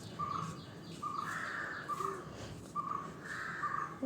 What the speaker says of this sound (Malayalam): ഇവിടെ കാക്കൊന്ന് ഭയങ്കര ബഹളം.